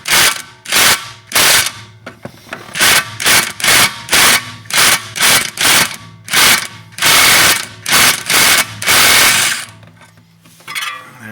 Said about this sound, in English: So we got an impact wrench, or I mean impact driver.